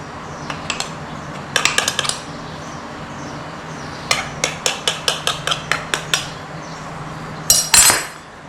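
A knife scrapes and taps around the rim of a pie dish, trimming excess pastry from a cheese, leek and potato pie, with quick bursts of clicking metal-on-dish knocks in short runs under a quiet kitchen background.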